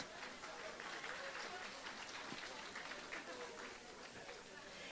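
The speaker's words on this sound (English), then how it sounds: "Give yourself a round of applause." A conference audience applauds in a steady wash of clapping lasting several seconds, with some voices and chatter mixed in.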